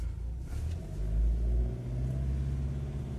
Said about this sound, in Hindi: अभी हम चला रहे हैं स्कॉर्पियो S11